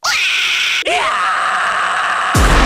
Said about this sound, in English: For instance, there's a metal scream.